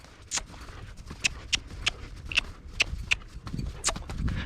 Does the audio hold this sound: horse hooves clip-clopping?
yes